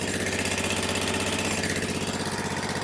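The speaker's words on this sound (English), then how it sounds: "So we're gonna engage the hydraulic pump. Right, that's spinning the pump." A Ditch Witch trencher engine runs steadily up close with its hydraulic pump engaged, giving a constant pulsing drone with no talking.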